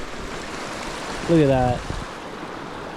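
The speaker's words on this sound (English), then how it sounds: "So this is all glacier water flowing through here" Glacier meltwater rushes through a rocky channel high on the Grand Teton, a continuous broadband wash of flowing water, with someone briefly speaking over it midway.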